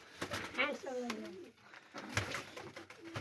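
Pigeons cooing in a coop, soft warbling coos close by at low volume, mixed with someone talking and background rustle.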